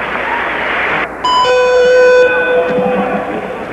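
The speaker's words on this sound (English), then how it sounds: "There's the bell." A boxing ring bell rings to end the first round, a bright metallic ding with sustained overtones cutting through loud arena crowd noise.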